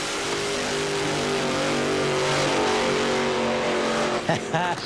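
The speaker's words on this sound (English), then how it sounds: "The undisputed king of the burnout is Dean Scusa." Funny car drag racer roaring through a burnout at a 1999 NHRA Pontiac Nationals event in Columbus, a loud, sustained, harsh engine and tire howl that cuts off near the end, followed by a commentator's voice.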